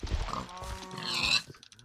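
A pig in the video game Minecraft grunting, a short, close snorting oink lasting under two seconds with no talk over it.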